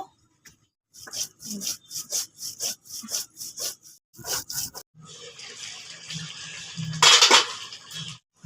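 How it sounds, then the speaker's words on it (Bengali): Four cardamom pods and cumin are ground into a paste, heard as a close series of about a dozen rhythmic rasping strokes, followed by a louder scraping clatter and a few softer scrapes. "চার পিস এলাচ আর জিরে বেটে নেব"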